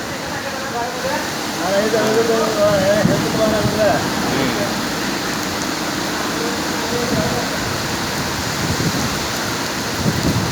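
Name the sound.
Kalboishakhi storm with rain and thunder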